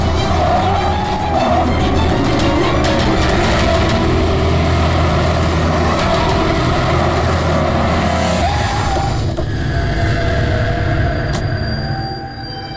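A car engine roars steadily as it chases a taxi along a city road, with a loud continuous drone and road noise and some faint shouting mixed in.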